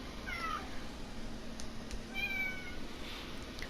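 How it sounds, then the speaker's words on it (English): A domestic cat meows a couple of times near an indoor computer, brief mewing calls standing out over a steady low background hum. "That's my cat."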